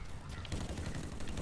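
Muffled gunfire from the shooter video game Blacklight, a dense continuous crackle of shots under faint background noise, with no clear individual bursts standing out.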